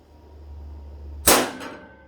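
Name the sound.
hammering a centre punch into metal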